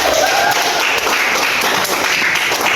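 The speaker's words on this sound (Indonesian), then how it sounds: "Tepuk tangan buat semuanya." A classroom of students claps together in a loud, continuous burst of close-up applause that runs through the whole moment, with light tapping and thuds and little talking.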